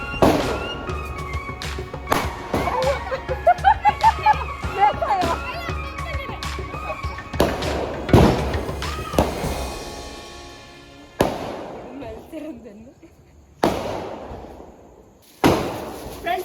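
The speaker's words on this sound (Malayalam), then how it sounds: "ചെറു മരത്തിന്റെ ഇടയിൽ പടക്കം വെച്ചിട്ട് പൊട്ടിക്കാൻ പോവാണ്" Firecrackers set between small trees burst during a Vishu celebration, a string of sharp, loud bangs and pops in quick succession, then a few spaced single blasts, with children's voices and talk around them.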